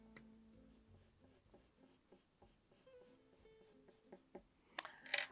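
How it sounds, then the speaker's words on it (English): Pencil drawing simple shapes on paper for an ice cream collage craft, a steady scratchy scrawl of short strokes running throughout, close and fairly quiet, with a few louder taps and rustles near the end. "In a moment, I'm just drawing them on."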